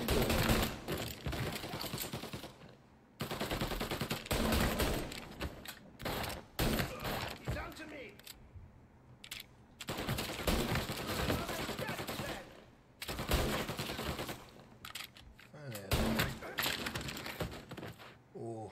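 Bursts of video game gunfire in Mafia Definitive Edition, loud, rapid volleys separated by short pauses, with a voice talking over some of the shooting.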